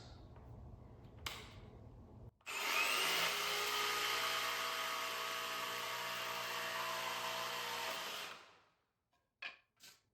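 A jigsaw cutting through a 1x3 wood board, a loud sustained buzzing whine for about six seconds that starts abruptly and stops, followed by a few faint knocks, with no speech.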